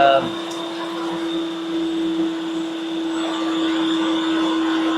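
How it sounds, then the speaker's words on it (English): A Ninja CREAMi Deluxe ice cream maker runs with a steady loud motor whine and hum that swells and eases slightly, continuous and close throughout. "So you can hear the machine. It seems to be speeding up and slowing down."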